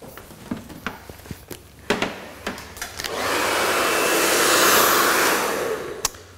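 A 3200-watt blow dryer on mid-length hair, heard after a series of sharp clicks from the clip and grip: its loud, steady roaring whoosh holds for about three seconds, then drops off.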